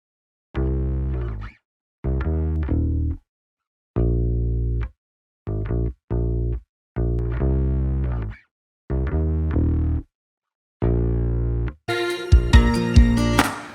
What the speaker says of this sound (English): Next up, I have a distortion, Manny Marroquin distortion plugin from Waves.